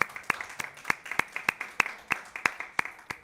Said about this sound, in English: Thank you all for cheering.